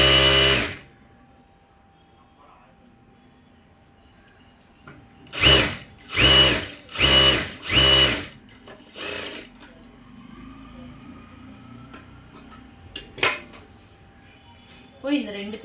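A sewing machine stitches a blouse piece in four short, loud bursts of a few seconds each, close by, with a brief whir at the start and light handling clatter between runs.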